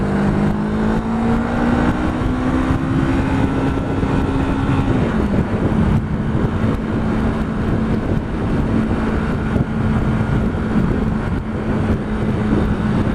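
A car approaches and passes on a road amid traffic, a steady engine drone that shifts in pitch midway as it goes by, fairly close and loud with wind rumble.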